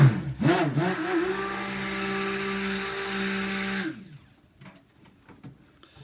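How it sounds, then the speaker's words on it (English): A stick blender whirs through goat milk soap oils and lye, a steady motor hum after a brief wobbling start, running close and loud for about four seconds before cutting off, leaving faint handling noises. "we use our stick blender to get everything to emulsification"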